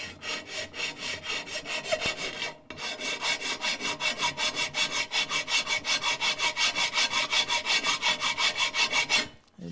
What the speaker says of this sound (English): and then work it with the file.